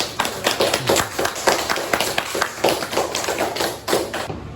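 A class audience applauds a student after her how-to demo: brisk, uneven clapping from a small group, with individual claps standing out sharply throughout.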